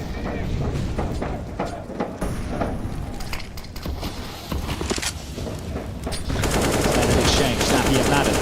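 Rapid automatic gunfire bursts and single shots crackle in a Counter-Strike: Global Offensive match at the IEM Cologne 2023 semi-final, dense and loud, with a commentator talking over the action.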